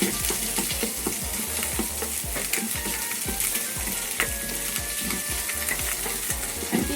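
Garlic sizzles steadily in a hot pan for a ginger stir fry while a utensil stirs and scrapes it in quick repeated strokes, close and continuous with no talking.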